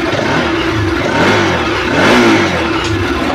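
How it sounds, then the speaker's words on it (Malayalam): A motorbike engine revs loud and close as the throttle is opened during a diagnostic scan, a continuous rough drone that swells briefly around the two-second mark. "നമുക്ക് പ്രോപ്പറായിട്ട് വർക്ക് ചെയ്യുന്നുണ്ടോന്ന് നോക്കാൻ വേണ്ടി ത്രോട്ടിൽ ചെയ്തുകൊണ്ട്"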